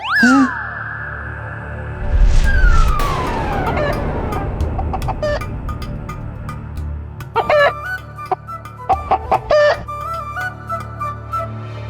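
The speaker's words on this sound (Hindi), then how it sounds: "मुर्गा।" A rooster crows loudly at the start, then clucking fowl and other animated sounds follow, with a long tonal sweep and scattered sharp calls over a busy background scene in a children's mythological cartoon.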